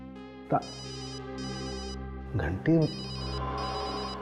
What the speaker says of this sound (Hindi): घंटी तो लैब में बज रही है, मतलब तारिका का फोन यही कहीं है लैब में।